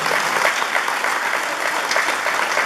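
A crowd at an outdoor municipal ceremony in Naupan claps steadily for local officials, with continuous, fairly dense applause from start to finish.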